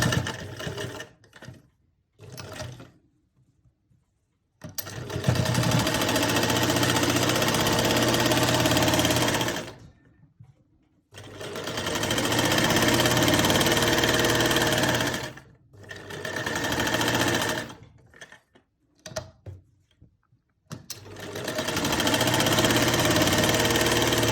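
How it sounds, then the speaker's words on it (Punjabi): Sewing machine stitching an armhole seam, running in several long steady bursts separated by short pauses, loud and close with a dense mechanical whir. "ਇੰਨੀ ਸਲਾਈ ਆਪਾਂ ਨੂੰ ਜ਼ਰੂਰ ਡਬਲ ਕਰਨੀ ਚਾਹੀਦੀ ਹੈ"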